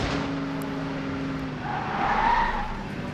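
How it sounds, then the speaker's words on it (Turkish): A video game car drifts with a long tire screech as its engine drones, the skid swelling louder toward the end, with no talking. "Driftimi de attım."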